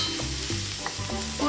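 Plenty of onions frying in a kadhai while being stirred, a brief close sizzle with a soft scraping stir beneath steady tonal sound.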